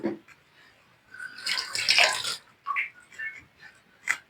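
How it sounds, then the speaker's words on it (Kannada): Water from a rinsed mixer jar is poured into a dish of cucumber and mustard curry, making short irregular splashing and trickling bursts, close and moderately loud, with quiet pauses between pours. "ಈಗ ಮಿಕ್ಸಿಯಲ್ಲಿದೆ ನೀರನ್ನ ಇದಕ್ಕೆ ಹಾಕ್ತಾ ಇದ್ದೀನಿ."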